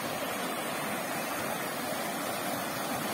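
Water of the Rio da Caixa in southwest Bahia rushes steadily, a continuous broad hiss and roar of flowing river water with no breaks or voices.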